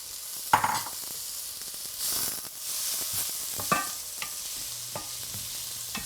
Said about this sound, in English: now we're going to add in our beet tops, or the leafy greens, to our beets